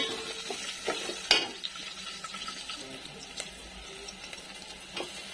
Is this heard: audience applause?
no